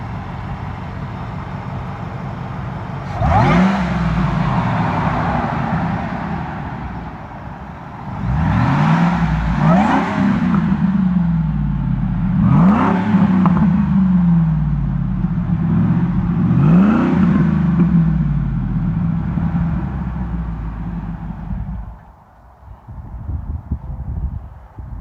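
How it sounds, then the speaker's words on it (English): A 2002 Ford Lightning pickup with a Diablo chip and aftermarket exhaust revs repeatedly from a steady idle, four or five loud rising blips that fall back to a rumbling idle, close by with no talking. "So I'll rev it up and let you hear the exhaust."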